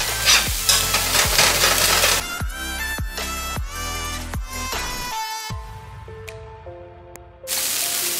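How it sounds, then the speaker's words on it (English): Corned beef frying and being scraped around with a stainless steel spatula, a loud broadband sizzle that fades into tuneful background music and then returns at the end. "I'm actually going to get a stainless steel spatula to help grab whatever is on the bottom here."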